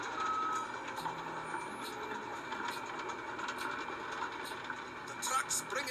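An asphalt truck reverses on a road-building job, its backup alarm beeping steadily at a moderate distance over a rumbling engine and general site noise, with someone talking over it.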